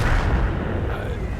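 A tank gun firing in a video game, giving a single loud, deep boom with a broad rumbling blast that fills the short moment, close and dominant.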